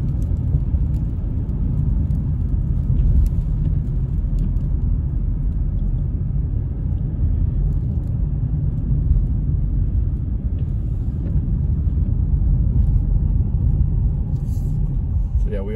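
Low, steady road rumble of a car driving on snowy streets in Big Bear, a continuous close interior drone with no clear change in pace.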